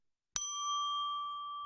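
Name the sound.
bicycle bell sound effect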